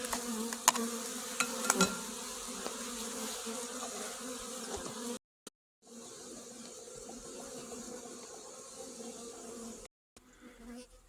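Dense, close buzzing of about half a cup of honeybees shaken in a jar for a varroa mite test, steady and continuous, with a couple of brief silent gaps and some light tapping early on.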